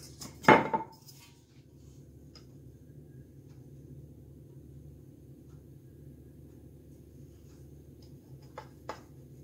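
A knife cuts through a rectangle of sugared, caramelized brioche dough on a board. One sharp knock near the start is followed by a long quiet stretch over a low hum, then a couple of faint taps at the end.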